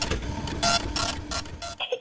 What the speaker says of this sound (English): The printer spits out sheets of paper everywhere